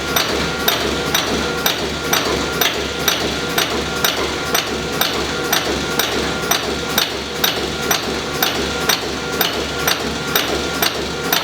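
A Strippit LVD 1000 XP20 CNC punch press, rebuilt with new bushings, lead screws and a Fanuc control, runs at high speed, hammering out sharp metallic punches in a fast, even rhythm over a constant mechanical drone.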